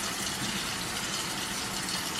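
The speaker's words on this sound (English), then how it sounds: "I'm going to take them out, and then under cool running water." Roasted peppers rinsed under a cool running kitchen tap, a steady close hiss and splash of flowing water with no break.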